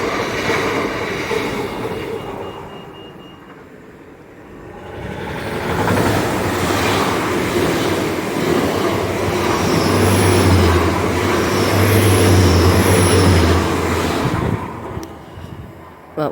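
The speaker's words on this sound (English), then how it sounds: "Now I've got 2 trains going through on each side." Two trains pass through Starcross station, one on each side, including a train to Penzance. The rumble grows from quieter track noise to a loud, close roar with squealing wheel tones, then fades away.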